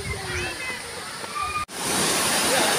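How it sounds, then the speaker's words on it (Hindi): Waterfall at the Hathnimata temple site, a steady rushing wash of falling water close by, with someone talking over it before the noise briefly cuts out and returns fuller and louder. "यहीं से आता है ये वाटरफॉल"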